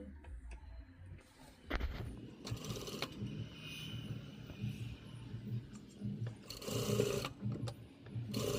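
A sewing machine stitches a baby's party frock together with its lining, giving a rapid mechanical whirring and clattering in short bursts with brief pauses, recorded close and fairly quiet.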